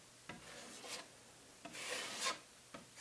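A drywall taping knife scrapes joint compound smooth over a wall seam, heard as a few faint, close rasping strokes, each starting with a small tap and trailing off in a scratchy slide.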